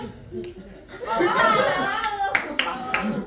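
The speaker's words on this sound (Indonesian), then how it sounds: "Tepuk tangan untuk dia" Church event audience clapping hands, with a few sharp distinct claps standing out over laughter and chatter from the crowd, close and moderately loud.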